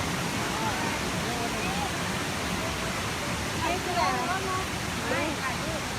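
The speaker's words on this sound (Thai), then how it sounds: "น้ำตกที่นี่นะ" A waterfall on a trip to a farm in Thailand roars as a dense, steady rush of water close by, with faint voices talking underneath.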